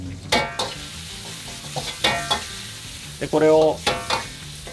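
Beef stir-fried with doubanjiang, tianmianjiang, minced garlic and ginger for Sichuan dry-fried beef, giving a loud close sizzle with repeated metallic scraping and clanking strikes, and a brief spoken phrase near the start.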